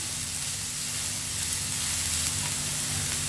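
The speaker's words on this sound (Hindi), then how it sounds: "हमने फ्लेम को ऑन करके हाई कर दिया है हम इसमें हरी प्याज डाल रहे हैं" Chopped white parts of green onions sizzling in a pan over a high flame, a steady close hiss of frying that continues evenly throughout with a low background hum.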